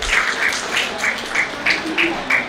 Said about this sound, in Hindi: तो एक बार जोरदार ताली फिर से जोरदार सब अपने लिए बजाएंगे